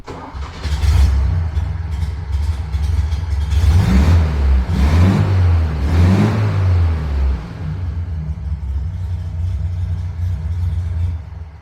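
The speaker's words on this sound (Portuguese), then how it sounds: "Vamos ouvir pela última vez o motor, Bianca?" An air-cooled Volkswagen Beetle engine idles with a steady low rumble, revving up in a few rises and falls before settling back to idle.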